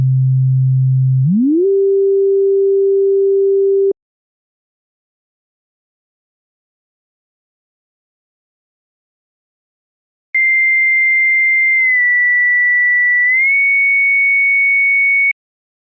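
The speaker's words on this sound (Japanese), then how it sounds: "キャリアのファインを変化させます。" Pure FM synth tones from Logic Pro's EFM1 sound as the carrier fine tuning changes: a low tone glides up and holds, then after silence a higher steady tone steps slightly down and back up, clean and loud with no voices.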